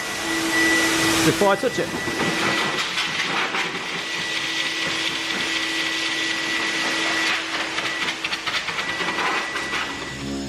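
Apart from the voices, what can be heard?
air blower removing dust from car paint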